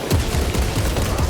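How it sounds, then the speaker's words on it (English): Dense, continuous barrage of heavy gunfire from orbital guns in the Space Marine 2 video game, a loud rapid fusillade of booming shots with no pauses. "There they are. The orbital guns."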